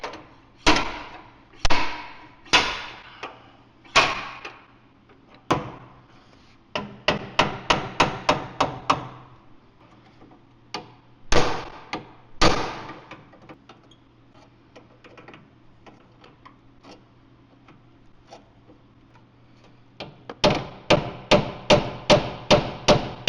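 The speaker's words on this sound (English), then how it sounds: "Actually, I might get the slide hammer on there." A slide hammer strikes repeatedly while pulling out a headlight mount on a salvage-auction Nissan Rogue, sharp metallic knocks coming singly and then in fast bursts of several, with quiet pauses between them.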